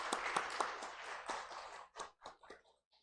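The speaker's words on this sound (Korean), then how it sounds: "우리 다시 한번 진원자매 박수를 드릴까요" A church congregation claps after a flute performance, light scattered applause from a small gathering that thins into a few isolated claps before fading out.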